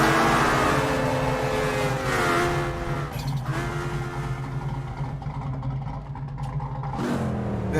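A drift car in CarX Drift Racing revs hard and loud, its engine tone climbing and dropping through repeated throttle blips, with tire squeal mixed in and no talking.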